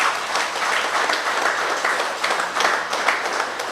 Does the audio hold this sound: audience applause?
yes